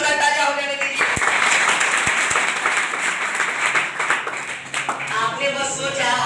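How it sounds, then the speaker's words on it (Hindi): A seminar audience of students gives loud, dense applause that carries on steadily for several seconds, with voices speaking over the start and the end of the clapping. "एक बार जोरदार तालियां हो जाने दीजिए।"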